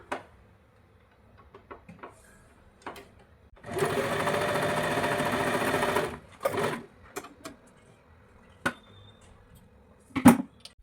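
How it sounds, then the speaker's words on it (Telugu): A sewing machine stitches cut blouse cloth pieces together in one fast, steady run of about two seconds, with scattered clicks and handling knocks of the fabric before and after. "ఇప్పుడు మనం ఇంతకుముందు కట్ చేసుకున్న క్లాత్ని ఇలా జాయింట్ చేసుకుందాం"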